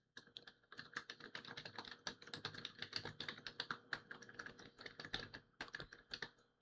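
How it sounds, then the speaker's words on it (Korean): Quick, uneven typing on a computer keyboard, a steady run of crisp close key clicks with brief pauses, heard alone without talk. "좀 타이핑이 좀 많이 어색해요."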